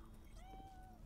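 A single drawn-out cat meow from a cat in a closet in the Cyberpunk video game, faint and rising then falling, over a steady low background hum.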